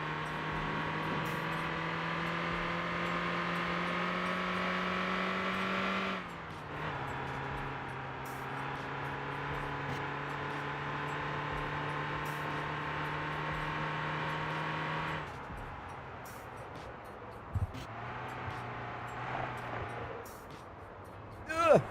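A car's steady engine drone with a strong low harmonic hum, dropping in pitch partway through and later easing off, heard near and continuous, with the car now fitted with better tires.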